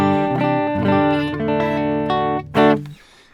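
Ibanez AGS83B guitar played clean through a Vox MV50 Boutique amp: a few ringing notes and chords that sustain and overlap, then one sharply struck chord that rings out and fades to quiet, close and fairly loud with no talking.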